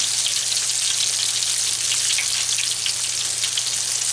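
Chicken frying in a pan of hot oil, a steady close crackling sizzle with dense popping and spitting, no voices.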